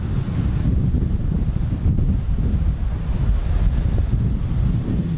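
Rough Caribbean sea waves off St Lucia churn and crash while strong wind buffets the microphone in a constant low roar, with no voices.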